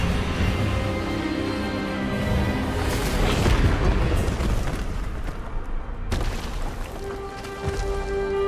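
A booming spell blast from the Expelliarmus charm in Hogwarts Legacy, a loud, dense burst with rumbling low end and crackling energy that swells mid-clip, cuts sharply, then settles into a sustained magical hum.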